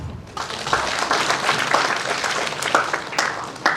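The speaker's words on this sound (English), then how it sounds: "You should clap." Steady applause from an audience at a book release function at IIM Trichy, a dense patter of many hands clapping at an even level throughout.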